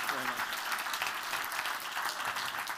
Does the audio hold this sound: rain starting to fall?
no